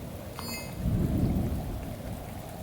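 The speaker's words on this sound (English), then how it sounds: "back out into the rain" Rain and a low thunder rumble in the video game Shadows of Doubt: a steady wash of rain under a deep roll of thunder that swells around the middle and then fades, with a brief chime early on.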